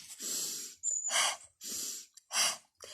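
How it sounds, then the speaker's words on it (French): Slow cycles of breathing in through the nose and out through the mouth during a relaxation exercise, three to four soft audible breaths with quiet pauses between them, close and clear. "j'inspire toujours le nez, expire par la bouche"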